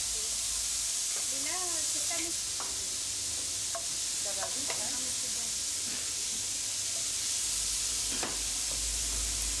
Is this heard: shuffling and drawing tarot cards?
no